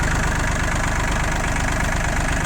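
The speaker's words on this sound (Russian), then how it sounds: "Работает ровно трактор." Yanmar F195 tractor diesel engine idling evenly just after starting while still warming up, a steady close rumble with a regular low chug throughout.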